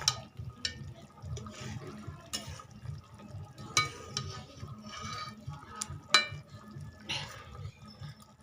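Rohu fish in a sour tamarind curry simmers in a pan, bubbling steadily with soft rhythmic blips and occasional small pops and clinks, with no one talking.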